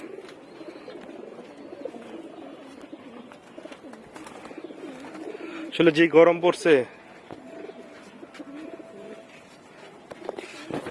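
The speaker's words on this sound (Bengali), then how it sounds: "এই যে কবুতরগুলোকে পানি দেওয়া হয়েছে, ওরাও গোসল করতেছে" Pigeons coo in a short burst midway through, soft and close, while a person talks quietly throughout and faint background noise continues.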